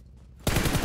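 Rapid automatic gunfire in PUBG Mobile erupts suddenly after a quiet moment, a loud, dense burst of shots that continues to the end.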